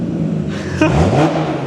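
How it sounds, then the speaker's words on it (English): Audi B8.5 S5 with an AWE Touring exhaust and open test pipe, one sharp, loud rev that rises quickly and falls away, standing alone after a low idle rumble. "Give it a couple revs."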